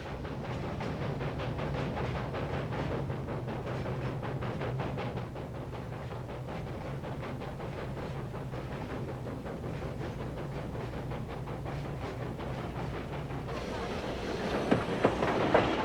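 A train running on rails through the Tian Shan Mountains, with a steady rumbling drone and rhythmic wheel clatter throughout, close and even in level, with a brief sharper knocking near the end.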